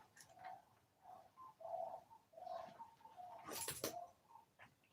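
Big birds calling repeatedly in soft, hooting coos at a moderate distance, with a brief rustling burst partway through; quiet outdoor background.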